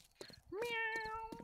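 A human voice imitates a cat with a single drawn-out, rising-then-level meow, close and clear, preceded by a brief murmur.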